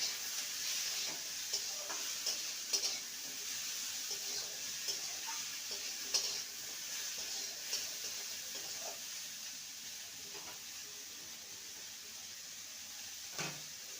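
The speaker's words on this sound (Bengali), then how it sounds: "এবার ঢাকা দিয়ে দিয়ে কাঁকরোলটাকে ভালো করে ভেজে নেবে" Kakrol (spiny gourd) pieces fry in a pan with turmeric, giving a soft, steady sizzle with light stirring clicks and scrapes throughout, close and quiet, with no voices.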